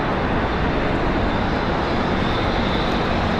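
An arriving airliner at Charlotte airport roars loudly and close, a dense, continuous jet engine wash with no break or talk.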